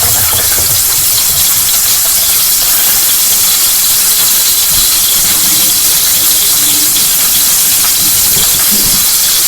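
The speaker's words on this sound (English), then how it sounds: "So I'm going to sear all four sides." Meat sears in a hot pan with a loud, steady hiss and sizzle that runs unbroken and close throughout.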